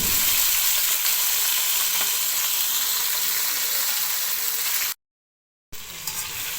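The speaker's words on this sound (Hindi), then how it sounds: "मैंने सारी मिर्चें जो हैं वो इस तरह से मसाला भर के डाल दी हैं और अब मैं इन्हें फ्राई कर रही हूँ" Steady loud sizzle of masala-stuffed green chilies frying in hot oil, bubbling continuously close up with no voices, then a short cut to silence before the frying resumes.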